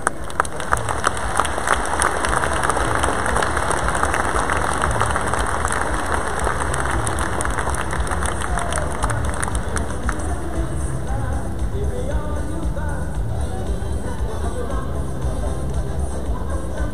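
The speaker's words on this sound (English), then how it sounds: "Please offer another round of applause for Esther and the Rassin family." Convention opening-ceremony audience applauds in a dense, loud round of clapping for about ten seconds, then it tapers into lower crowd murmur and rumble.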